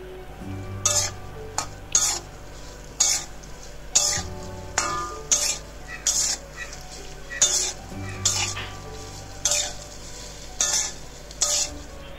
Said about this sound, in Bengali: আলু আর সয়াবিনটাকে আগে ভালো করে ভেজে নিই